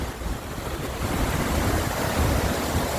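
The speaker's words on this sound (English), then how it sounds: "Here we are at the bottom of Ellis Falls. Fair amount of spray coming up. There's a lot of power in here." Powerful waterfall at the base of Ellis Falls in New Zealand backcountry, with a steady, dense roar of rushing water and spray, loud and continuous, some wind buffeting the microphone.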